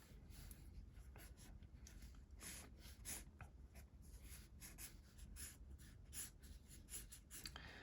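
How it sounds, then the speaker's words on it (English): A marker scratches and scumbles across paper in quick, uneven strokes, soft and close, forming a continuous rough rubbing with rhythmic bursts and no talking. "I like how this marker kind of creates this like scumbling mark here."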